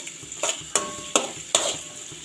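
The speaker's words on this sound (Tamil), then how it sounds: "இந்த வெங்காயம் நல்லா தாளிக்கணும்" Onions sizzle softly in a pan while a spoon stirs them, giving four sharp scraping clinks at a steady pace over a faint frying hiss.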